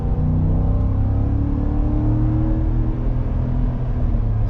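A 2022 Ford F-150 with the 5.0 V8 in sport mode accelerates hard from inside the cab, a loud, steady engine roar and low rumble sustained throughout with no talking.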